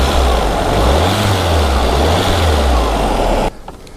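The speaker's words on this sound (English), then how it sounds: "I'll give it a couple of revs and I'll just turn it off" A 1994 Lancia Integrale Evoluzione 2 car engine roars steadily with a low rising and falling drone as it is revved, then cuts off abruptly near the end.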